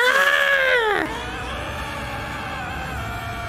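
Human voice imitating the scream of the anime character Goku, a single high, strained, wavering yell that bends downward and cuts off after about a second, followed by quiet background.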